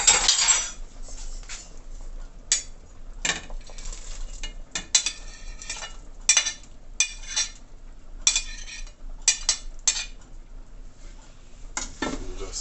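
A spoon stirs fish into a pot of striped bass head soup, making repeated clinks and scrapes against the pot in irregular bursts, close and fairly loud, with soft pauses between strokes.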